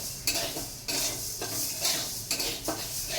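Lentils fry in a pan in a home kitchen, a close, continuous sizzle broken by repeated scraping stirs of a utensil.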